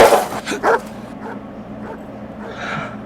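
A dog barks and whimpers in a scene from the 2002 film Signs, a few sharp yips followed by softer whining at moderate distance, with faint voices underneath.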